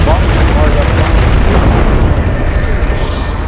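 Mortar explosion in a multiplayer shooter, a loud, dense rumbling blast with crackling debris, heavy low-end roar sustained throughout, with voices talking over it.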